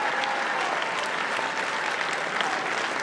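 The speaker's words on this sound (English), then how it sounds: "Give yourselves and the campaign a great round of applause." A crowd at a Virginia election victory speech applauds in dense, continuous clapping, loud and steady for the whole stretch.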